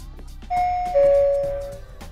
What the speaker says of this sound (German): Ja, da klingelt es an der Tür.